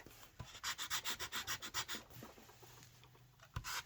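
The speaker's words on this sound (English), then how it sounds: "Let's see if my sandpaper can rough it up a bit" Sandpaper roughing up a small crafted surface by hand, a quiet, close run of rhythmic rubbing strokes followed by a pause and a final scratch.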